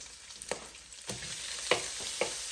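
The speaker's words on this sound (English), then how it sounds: "Saute that up nice and good" Sausage sautéing in a pan under a quiet, steady sizzle, with four sharp spatula scrapes and taps spaced roughly half a second apart, close and moderately loud.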